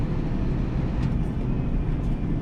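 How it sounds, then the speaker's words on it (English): A lorry with an eight-speed four-over-four gearbox strains in a low gear from inside the cab, a steady loud drone of engine and road noise with a faint higher whine above it. "the lorry's screaming a little bit"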